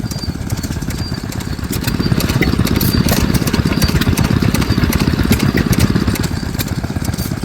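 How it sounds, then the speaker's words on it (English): A Bradford hit-and-miss stationary engine at a vintage machinery rally chugs loudly and close by, its rapid, steady exhaust beats continuing throughout with no voices over it. "We've got a Bradford running. Another little hit and miss."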